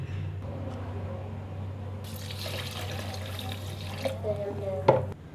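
A glass of water poured into a blended lychee juice mixture for sherbet, a steady close splash and trickle of liquid running for several seconds with a louder burst near the end, no one speaking.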